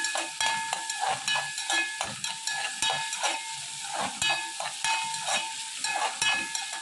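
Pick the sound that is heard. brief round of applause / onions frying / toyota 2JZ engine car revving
onions frying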